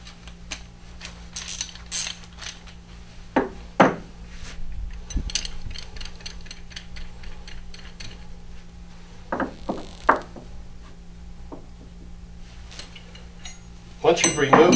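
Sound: wrenches removing filter from filter nut assembly

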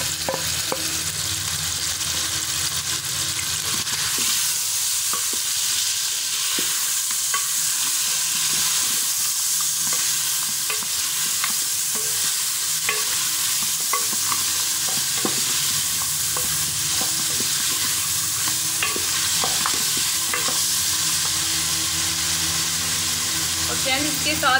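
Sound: ginger garlic paste and salt frying with meat in pan

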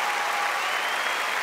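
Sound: audience applause for aerialists at a schools spectacular

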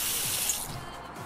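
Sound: tap running water into a pot in Cooking Simulator video game

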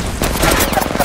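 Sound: gunfire in the video game Apex Legends Mobile

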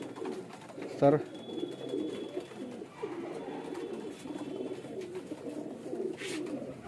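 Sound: pigeon cooing

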